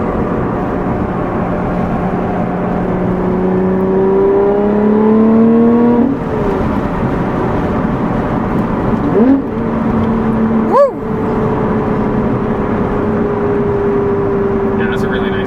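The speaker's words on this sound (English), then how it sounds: "it's a really nice downshift" Lotus Evora engine revving during a downshift on a ride-along, rising pitch sweeps of the engine and a sharp blip around the gear change, steady cabin drone throughout under voices.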